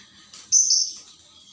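Pet birds chirping at home, a few sharp high tweets in quick succession, close and clear over a quiet background.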